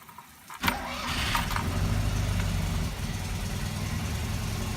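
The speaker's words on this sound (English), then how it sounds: "the car's running really well" A Fiat 126p cranks and catches, then settles into a steady, close idle with a rough low rumble that continues without any talk.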